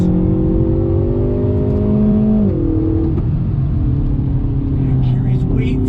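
A 2020 Hyundai Veloster Turbo hot hatch drives hard through twisty roads, its engine droning loudly from inside the cabin. The pitch climbs, then dips with a shift, and the engine pulls steadily again.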